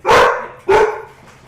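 Two loud, sharp barks from a nearby dog, about half a second apart, trailing off into quiet.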